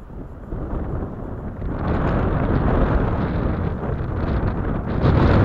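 Strong wind at a near-freezing spring fishing spot buffets the microphone, a rough low roar that swells louder partway through and keeps gusting with no voices.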